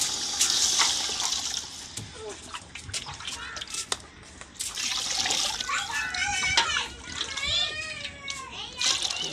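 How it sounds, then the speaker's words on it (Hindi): Water being poured into a cooking pot, a splashing, trickling stream that runs in bursts while a voice talks over it. "अब पानी डाला जा रहा है"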